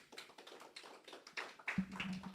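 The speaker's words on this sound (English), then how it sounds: "Applause." A small audience at a startup community event gives brief, scattered applause, a quiet patter of individual claps that picks up slightly toward the end.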